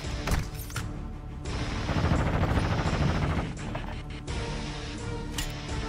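Noisy battle sounds in the video game Modern Warfare 2, with dense overlapping gunfire, a few sharp cracks and heavy rumbling blasts that swell and fade over several seconds.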